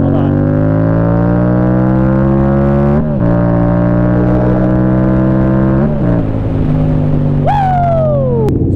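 A motorbike engine drones steadily while being ridden, its pitch holding and shifting through gear changes, with a sharp rev rising and falling near the end; loud and close throughout, with no talking.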